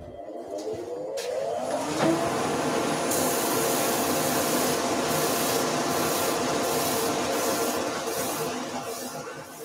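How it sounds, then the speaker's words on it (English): A dust extractor on a wood lathe starts up with a rising whine, then settles into a steady loud whoosh of rushing air that continues evenly and close by, with no speech. "I will just pop that dust extractor back on again"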